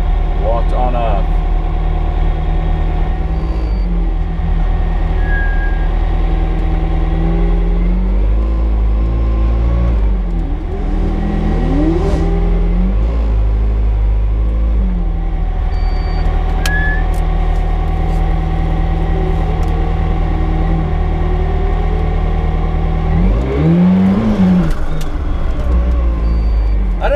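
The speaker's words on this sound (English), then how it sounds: "Wheel spin in a McLaren." A McLaren P1 GTR race car at the Goodwood Festival 2016 roars loudly and continuously, its engine note sweeping up and down through revs as the wheels spin, while people talk over it.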